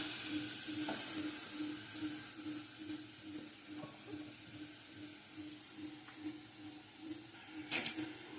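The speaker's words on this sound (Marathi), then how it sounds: "असं किस टाकल्यानंतर तुपामध्ये चांगलं हलवून घेतले ना की मग त्याला चांगलं शिजवून द्यायचं" Grated carrot frying in ghee while it is stirred: a low, steady sizzle with soft rhythmic scraping of the spoon in the pan, faint and continuous, ending in a brief clink.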